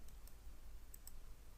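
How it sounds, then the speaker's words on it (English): Computer keyboard typing while a business website form is filled in, heard as a few faint, sparse key clicks over a low steady background hum, with no talking. "and typing my phone number"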